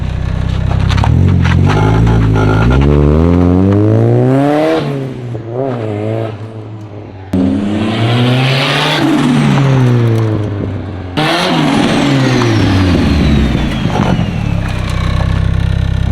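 A car engine revs up repeatedly, climbing and dropping through gear changes as the vehicle pulls away, loud and close throughout.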